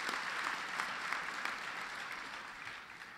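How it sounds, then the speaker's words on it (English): A large crowd at a union gathering gives a sustained round of applause, a thick, even roar of clapping at moderate loudness that slowly tapers near the end, with no voices on top. "Give Ray a big round of applause."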